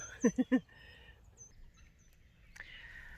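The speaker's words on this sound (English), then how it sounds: "you can hear all the birds chirping" Birds chirp in spring on a farm, led by three quick, close and fairly loud calls, followed by fainter scattered tweets and a soft rustle.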